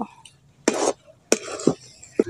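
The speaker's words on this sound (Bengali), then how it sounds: "এইভাবে করে সবসময় নাড়াচাড়া করতে হবে, নাহলে কড়ার নিচে লেগে যেতে পারে" A spoon stirs a thickening sweet mixture of raw rice in a pan, giving several sharp scraping clinks against the metal at irregular intervals, with quiet gaps between.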